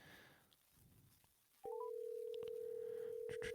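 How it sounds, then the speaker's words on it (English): A telephone being dialed for a call: a few quick rising beeps, then one steady tone that holds to the end, faint and thin. "let's make his phone call real quick"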